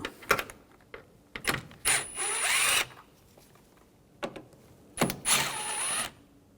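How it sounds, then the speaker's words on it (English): A power driver with a T25 bit backs screws out of a coolant reservoir on a 2006–2010 BMW 550i with a 4.8L V8, giving several short whirring bursts separated by pauses and small clicks, close and fairly quiet. "I'm going to use a T25 to take these screws out."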